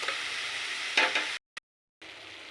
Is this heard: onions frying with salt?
yes